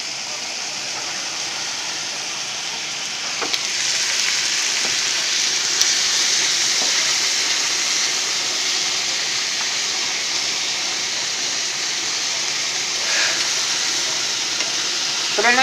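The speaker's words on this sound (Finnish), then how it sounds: "Tässä ruskutetaan jauhelihaa, tuohon tehdään kastike ja tuossa on makaroni." Ground beef browns in a frying pan on a home stove, a steady loud sizzle running throughout with occasional stirring clicks and scrapes, no voices over it.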